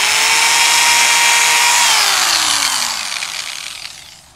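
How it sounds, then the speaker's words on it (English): A power drill drilling wood at high speed whines loudly and steadily, then its pitch slides down as it winds to a stop. "start out with the drill, hold all this in tight, and I'm starting out by going with high speed and drilling"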